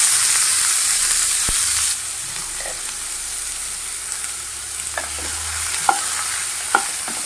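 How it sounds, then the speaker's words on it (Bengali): Sliced onions fry in oil for a Kashmiri alur dom, a steady close sizzle with a few sharp clicks and scrapes of a spatula stirring the pan. "পেঁয়াজটাকে ফ্রাই করে নেবো গোল্ডেন ব্রাউন করে"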